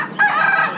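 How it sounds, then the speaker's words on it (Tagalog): A rooster at a small animal auction crows once, short and loud up close, with chicken sounds in the background. "Mga manok."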